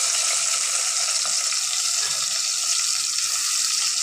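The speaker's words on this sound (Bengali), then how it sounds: "তেলটা গরম হয়ে গেছে, এখন এর মধ্যে আমরা দেব পেঁয়াজ কুচি" Chopped onions fry in hot oil with a loud, steady, close hiss that stays even and unbroken throughout.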